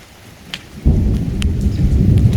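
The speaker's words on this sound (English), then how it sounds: "thunder, as usual" Outdoors in Jamaica, a sudden loud roll of thunder breaks in and rumbles steadily over heavy rain, with a few sharp drips and taps nearby.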